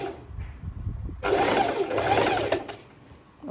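A sewing machine stitching swimsuit fabric at stitch length 4, running in a loud, steady, rapid burst of about a second and a half after a quieter start, then stopping abruptly.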